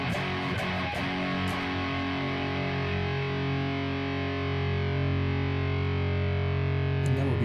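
An electric guitar played through the Monster Amp app on iOS rings out with heavy distortion, a few picked notes followed by a sustained, buzzing chord that holds steadily, close and loud with no talking.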